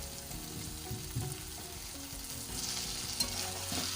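Potatoes and sprouted matki frying in a pan for a dry village-style sabzi, with a steady sizzle and scraping stirs against the pan throughout, slightly louder in the second half.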